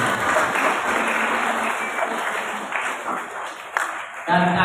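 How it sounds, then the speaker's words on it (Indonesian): An audience applauds at an elementary school Quran graduation ceremony, a dense, steady crowd clapping that continues under a host speaking over a PA. "Tepuk tangan untuk Bapak Ibu."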